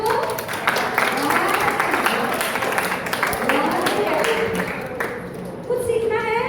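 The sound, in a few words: audience clapping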